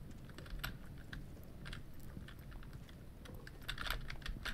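Fast computer keyboard typing during an R6 Siege Outbreak game session, sounding as a steady run of light, close clicks and taps over low game background noise.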